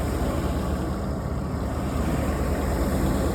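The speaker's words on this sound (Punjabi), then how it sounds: "ਥ੍ਰੈਸ਼ਰ ਚੱਲਣ ਡਈ ਇਹ ਬੇਮੌਸਮੀ" A tractor-driven thresher, run by a 240 tractor, threshing millet, produces a constant loud low rumbling drone with broad noisy roar, unbroken and close throughout.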